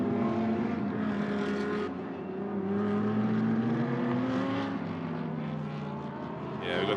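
Aston Martin race car at the Sepang 12 Hours endurance race, its engine note rising and falling through gear changes as it passes at a moderate distance, alone without talk.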